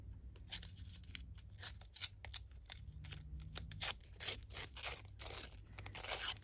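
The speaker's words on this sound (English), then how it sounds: "I'm just going to tear it a little bit more." Paper is torn by hand for a junk journal, a close series of short dry rips and crinkles coming in quick irregular bursts with no talking.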